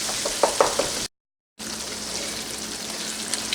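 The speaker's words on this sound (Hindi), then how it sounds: "इनको अच्छे तरीके से मिक्स करें कि सारे टमाटर प्याज मिक्स हो जाएं।" A pan of fish curry masala with tomatoes and onions gets stirred, giving a steady close sizzle with soft scraping and wet clicks. The sound cuts out briefly, then carries on evenly.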